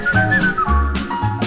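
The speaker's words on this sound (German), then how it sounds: "er pfeift sein Lied für eine andere dann" A man whistles a bright, lilting tune in a 1960s German schlager song, the melody carried over light band accompaniment with no singing.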